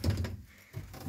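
Old KMZ-1966 elevator with hinged swing doors being pulled open by hand, giving a short near thump and rattle of the door, then a quiet pause and a second dull knock as it settles.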